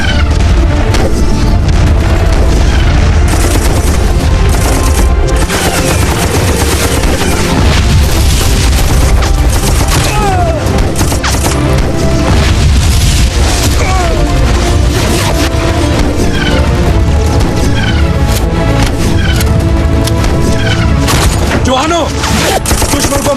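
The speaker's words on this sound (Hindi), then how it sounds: "इस तरफ से हैवी फायर हो रहा है सर।" Heavy battlefield gunfire and explosions from a historical war film: dense, loud volleys of shots, booms and crashes continuing without a break, with shouted voices mixed in.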